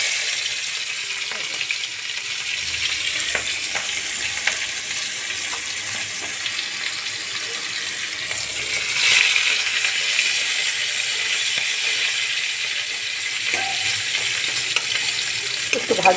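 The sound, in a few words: onion frying in a kadai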